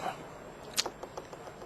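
Fingers tap nervously on a card table at a professional Magic tournament, a handful of faint, light knocks in an uneven rhythm over quiet room tone.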